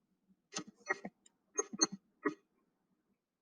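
Keys tapped on a keyboard while entering an algebra answer, a few quiet, sharp clicks in small clusters separated by short silences.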